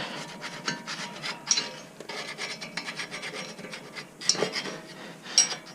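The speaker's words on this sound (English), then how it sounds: "I'm just going to have to use a rag and a screwdriver to clean off all this corrosion and dirt." A screwdriver and rag scrape corrosion and dirt off a Toyota Tundra front brake hub, producing repeated close, gritty rasping strokes in an irregular rhythm with occasional sharper metallic scratches.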